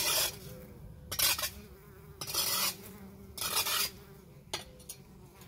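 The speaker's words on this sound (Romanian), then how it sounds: "Albinele la cules dulceață." Bees from a honeybee hive buzz around plum jam outdoors, a steady close insect drone with louder bursts as individual bees fly past near the microphone, no talking.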